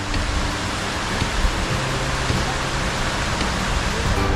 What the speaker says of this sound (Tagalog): nagpakabasa sila sa ulan